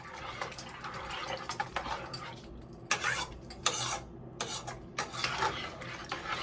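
Rice is stirred into a covered pot of gluten-free sausage soup, giving soft scraping and spoon-on-metal clinks in uneven bursts, close by and moderately quiet.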